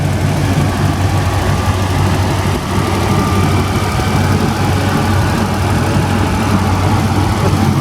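A Minneapolis-Moline G1000 tractor with a 504 engine rumbles steadily at idle, loud and close, with a constant low drone and no talking, at an antique engine and tractor show in Spring Valley, Minnesota.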